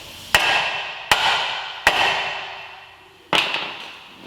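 Four sharp, loud hammer strikes ring out on a Honda Accord axle tool while the axle is being separated. Three blows come in a steady rhythm, then a short pause before the fourth, each followed by a metallic ring that decays.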